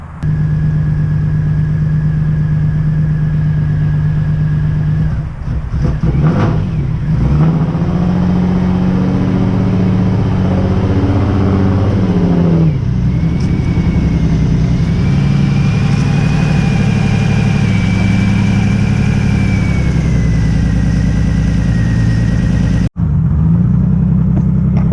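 A BMW E36 on Kansei KNP wheels idles with a steady low engine rumble, its pitch shifting as it rolls out of a garage and down a driveway, loud and close throughout.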